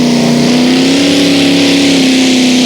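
A Chevy 509-powered pulling tractor at a European tractor pulling championship, a loud, sustained roaring engine drone with a steady pitch that rises slightly, close and unbroken.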